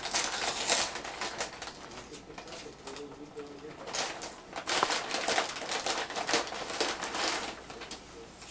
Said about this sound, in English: Don't be afraid to tear the paper.